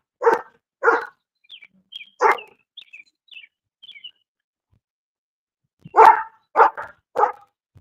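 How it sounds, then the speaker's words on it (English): A dog barking on a walk in Boulder, Colorado, three sharp barks, a pause filled with faint bird chirps, then three more barks, close and loud. "get past the barking dog"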